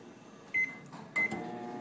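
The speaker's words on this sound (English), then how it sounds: "you'll microwave your 250 milliliter herbal body flask 3 times at" A microwave oven heating agarose gel solution in a 250 milliliter flask gives two short, loud electronic beeps about half a second apart over a low running hum.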